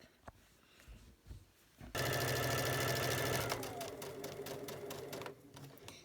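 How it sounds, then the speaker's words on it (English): A sewing machine runs along quilt binding, starting abruptly after a quiet moment and then whirring steadily with rapid needle clatter, close and fairly loud, before easing slightly toward the end. "So I'm going to sew all the way down to that pin, and I'm going to pause sewing"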